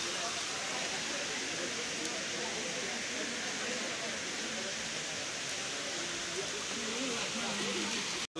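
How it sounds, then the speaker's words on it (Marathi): Water roars down in a steady, heavy rush during heavy rain at Ekvira Devi temple, like a downpour or cascade, unbroken throughout, with faint voices beneath the noise. "बघा कसलं पाणी वरतून येतंय, फुल फोर्सला आहे, कारण पाऊस पण तितकाच पडतोय"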